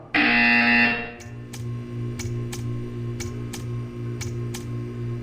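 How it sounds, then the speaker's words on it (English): A loud electronic buzzer from the video game Portal 2 blares steadily for about a second, then gives way to a low hum with a run of sharp, evenly spaced ticks. "You will hear a buzzer."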